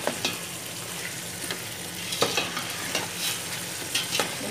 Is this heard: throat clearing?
no